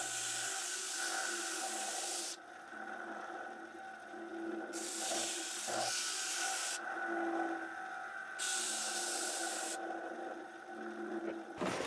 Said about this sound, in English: We're back over to the stationary disc sander with the air switch.